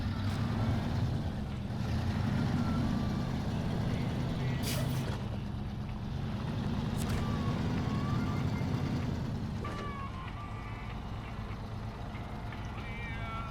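Heavy off-road truck in SnowRunner grinding through mud, a steady loud low engine drone with brief hissing bursts like air brakes, continuous throughout without talk.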